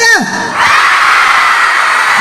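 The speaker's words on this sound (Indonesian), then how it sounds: "turunkan sambil teriak sekeras-kerasnya" A group of school students shouting together as loud as they can, rising into one sustained, loud, dense roar of voices that fills the room after a brief lead-in voice.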